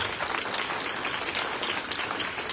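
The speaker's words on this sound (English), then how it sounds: "So let's give a round of applause for that." A steady wash of applause at a teacher awards ceremony, fairly quiet and continuous, with many hands clapping together and no voices.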